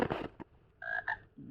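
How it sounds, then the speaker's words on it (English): A toad croaks from a children's sound book, two short buzzing calls heard close and clear between quiet gaps, with a little talk around them. "let's hear the sound of the toad one more time"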